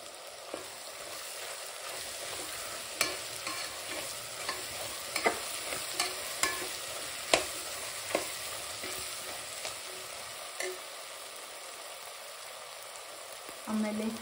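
Mixed vegetables for a vegetable biryani sizzle and fry steadily in oil, with a spoon scraping and stirring through them in scattered clicks, close and moderately loud, no voices.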